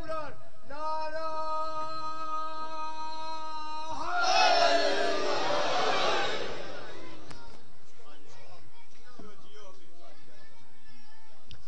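A majlis crowd at Imam Bargah Qasr-e-Sakina in Ratiyan shouts religious slogans in response to a zakir. A sustained, melodic lead voice comes first, then a loud burst of massed voices for about two seconds, followed by quieter murmuring.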